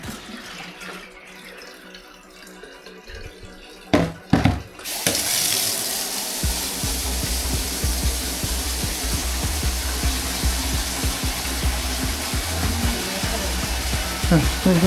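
A kitchen sink tap runs in a house whose drain empties straight into the sea, starting with a few knocks and clunks before water gushes in a loud, continuous hiss with rattling underneath, while people talk nearby.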